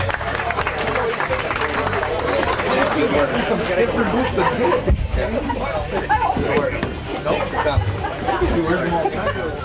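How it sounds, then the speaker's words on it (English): Crowd at a fishing tournament awards ceremony giving the first-prize winning team a round of applause, steady dense clapping and chatter filling the whole stretch at close range. "I want a round of applause for them, guys."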